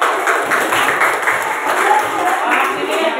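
Steady applause from a crowd, dense and even throughout, with a murmur of voices mixed in.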